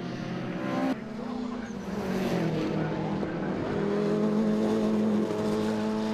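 An Escort Cosworth and an RS2000 racing at a 2012 Scottish sports and saloon car meeting, engines roaring as they pass, with rising and falling revs and a sustained drone; no talk in the clip.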